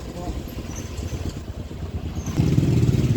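Motorbike ridden fast on a road, its engine a steady mid-pitched drone that grows louder and rougher near the end, close by with wind and rattling underneath.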